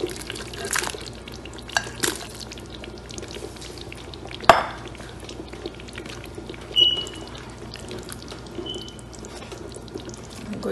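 Meat going into a pot of simmering chicken stew: a few soft liquid splashes and gentle drips, with one sharp clatter midway, quiet and close, with no talking.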